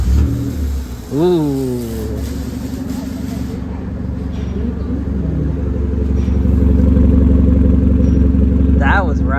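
A Daihatsu Terios with a newly swapped custom muffler cranks over and fires into its first startup, then settles into a loud, close, rumbling idle that builds steadily, with a brief exclamation from someone nearby.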